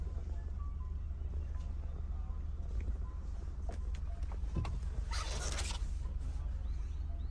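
Folding and tumbling the third-row seats of a Mahindra Scorpio-N Z8L produces quiet creaks and mechanical clicks, with one brief louder latch-like rattle, heard over a steady low hum.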